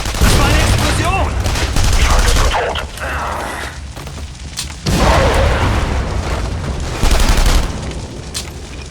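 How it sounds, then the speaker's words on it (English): Explosions and heavy gunfire in the World War II action game The Saboteur, loud booming blasts and rattling bursts with a broad roar, swelling and fading in waves over several seconds. "Das war eine Explosion!"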